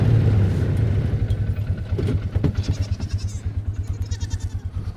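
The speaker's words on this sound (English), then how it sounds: "goats." Goats in a frosty morning pasture give a loud, close bleat, followed by a steady low rhythmic engine chug from nearby machinery hauling logs.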